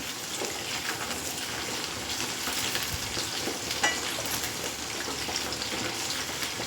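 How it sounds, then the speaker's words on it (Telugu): Ingredients for chicken fried rice frying in a pan, a dense, continuous close sizzle with scattered stirring scrapes and no talk. "ఇది బాగా ఫ్రై అయ్యేయండి"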